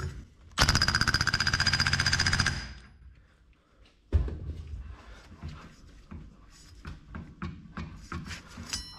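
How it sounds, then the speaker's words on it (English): A loud impact wrench rattles in a two-second burst tightening a spindle nut on a John Deere 425 mower deck, then quiet metallic clanks and clicks follow as tools are handled nearby. "just hammer on it gently with my impact wrench until the nut stops"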